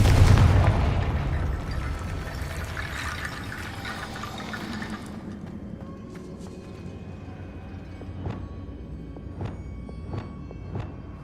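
A Confringo blasting spell explodes in Hogwarts Legacy, opening with a loud low boom that rumbles and fades over several seconds, followed by quieter game ambience with a few sharp clicks.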